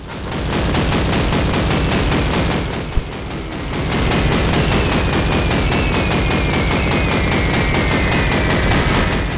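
A German flak gun in Call of Duty fires a steady, loud stream of rapid pounding rounds that continues almost without pause, with one sharp louder crack partway through.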